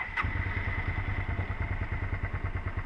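A 2002 Suzuki SV650 motorcycle that won't run properly, idling on full choke after starting: a steady, close, rhythmic engine thrum with a brief click at the start.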